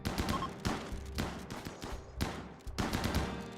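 Shotgun blasts in RimWorld, a colony game, fired at zombies: several sharp, separate reports spaced roughly half a second to a second apart, fairly faint overall with noisy tails between shots.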